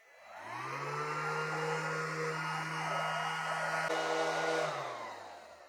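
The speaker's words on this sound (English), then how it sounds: "This is an 18-volt brushless angle grinder." An 18-volt cordless brushless angle grinder with soft start spins up with a rising whine, holds a steady high-pitched motor hum at full speed, then winds down with soft stop; close and fairly loud.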